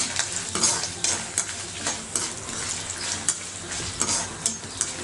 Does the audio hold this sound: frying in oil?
yes